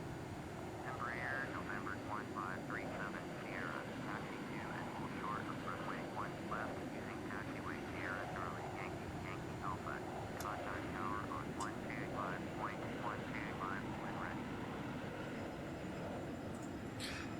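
An airliner taxiing in the FSPassengers flight simulator game produces a steady, low engine drone throughout, while a person talks over it the whole time.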